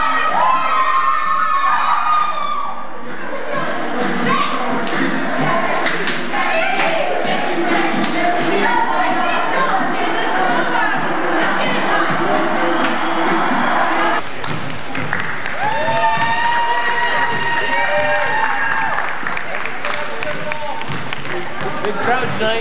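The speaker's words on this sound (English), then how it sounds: "Big crowd tonight. Looks like there's no spots in the bleachers." Packed bleachers erupt in loud, continuous cheering and shouting from a big crowd, with high-pitched yells and whistles throughout and a brief dip before the noise surges again.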